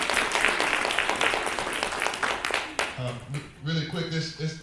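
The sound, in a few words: audience applause for a speaker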